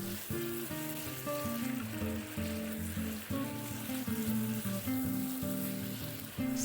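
Squid stir-frying for a Korean spicy squid dish sizzles steadily in a hot pan, a dense close crackle with faint rhythmic scraping of stirring and no voices.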